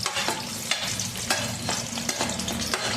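Chopped onion sizzles in hot tempering oil with mustard seeds and cumin, a steady close, loud hiss broken by sharp scrapes of stirring every half second or so, with no talking.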